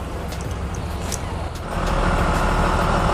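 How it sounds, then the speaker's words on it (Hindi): A big truck in a GTA mobile game rumbles close by, its engine growling low and heavy, then swelling louder midway through as it draws near. "बाप रे इतना बड़ा ट्रक"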